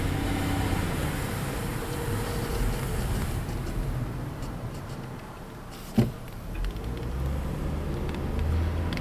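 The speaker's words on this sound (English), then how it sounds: "getting ready to take it for a first ride. I usually start off nice and slow" A Ford Flex rolls slowly on its first drive after new front brake pads and rotors, giving a steady low engine and road rumble with one sharp knock about two-thirds through, close and continuous, with no talking.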